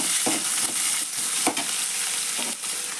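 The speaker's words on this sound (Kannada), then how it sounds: "ಉಳ್ಳಾಗಡ್ಡೆರು ಎಣ್ಣೆ ಒಳಗೆ ಕರಿಬೇಕಾಗ" Onions frying in oil in a pan, a steady close sizzle with a few stirring scrapes, heard alone.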